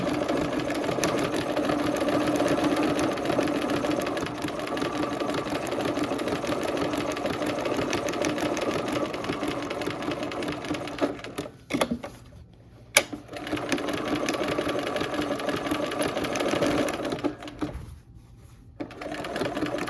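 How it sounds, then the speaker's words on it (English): A sewing machine stitches a quilt block with lace underneath, whirring at a fast, even pace. The stitching stops briefly twice, then starts again. "And while I'm stitching this is tacking down that lace too that's underneath it"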